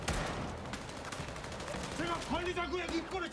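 Gunfire from a Squid Game Season 2 scene, bursts of shots mixed with dramatic music and voices, heard at moderate level under the scene's soundtrack.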